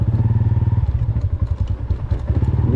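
A single motorcycle rides along with a loud, close, pulsing engine drone and rhythmic throttle throb, with a bit of clatter and thumps mixed in.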